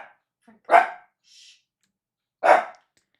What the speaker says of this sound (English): He's a little barky boy.